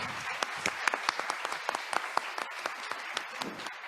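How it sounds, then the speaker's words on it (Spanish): Audience applause for the speakers at an international private-law congress at UNAM, a steady wash of many hands clapping for several seconds, fairly distant and even throughout. "un aplauso nuevamente para todos los ponentes"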